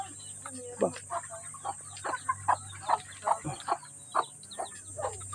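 Chickens cluck close by in short, uneven bursts over a constant high insect buzz and a low hum.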